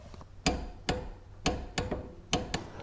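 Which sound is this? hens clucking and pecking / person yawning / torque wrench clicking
torque wrench clicking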